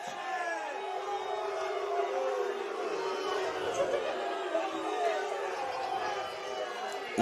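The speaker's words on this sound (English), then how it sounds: "The crowd doesn't like it." A soccer stadium crowd murmurs and grumbles in a continuous loud wash of chatter after the referee lets a shove on the goalie go uncalled, with no distinct cheer standing out.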